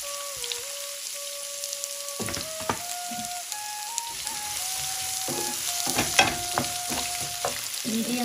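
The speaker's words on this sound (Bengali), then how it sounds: "এখন দিয়ে দিব পেঁয়াজ কুচি" Chopped onion hitting hot oil with garlic in a pan makes a close, bright sizzle that swells as more goes in, with scattered spattering pops and scraping clinks, no voices.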